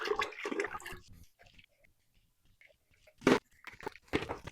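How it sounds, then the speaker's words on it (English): Sponges from an Oase Biomaster aquarium canister filter are wrung out over a bucket, giving a short burst of splashing, pouring water around the three-second mark amid quieter handling noises. "empty these sponges into here, wring them out in the bucket."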